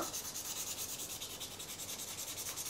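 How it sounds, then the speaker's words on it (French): Steady rhythmic rubbing of a soft foam nail file or buffing block across a coat of nail polish to roughen it, a close, quiet back-and-forth scratching that repeats evenly without pause or talk. "avec une lime douce, une lime mousse ou un bloc, je griffe la surface de ma couleur"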